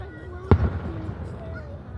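A single loud Fourth of July firework explodes in a sharp bang with a short rumbling tail, while people talk faintly before and after it outdoors.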